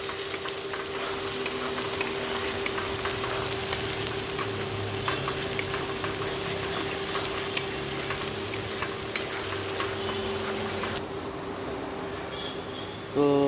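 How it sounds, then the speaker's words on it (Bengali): Chopped onions fry with salt in a pan while being stirred, giving a steady close sizzle with scattered scraping ticks throughout and a brief louder clatter at the end, with no talk. "তো পেঁয়াজ মোটামুটি ভাজা ভাজা হয়ে গেছে।"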